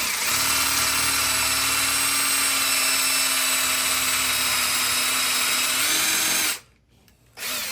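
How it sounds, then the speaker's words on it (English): A loud power drill whines steadily at close range for several seconds while drilling into wood, then cuts out briefly before starting up again. "as we're drilling, and we want to go in kind of at this angle"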